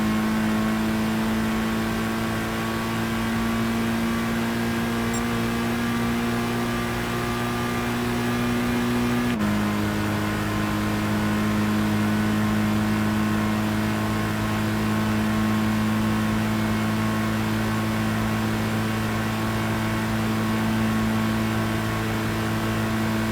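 A racing car engine holds a steady, loud high-revving drone at full throttle in Gran Turismo 5, with one brief dip and shift in pitch partway through as it changes gear, then continuing to wail.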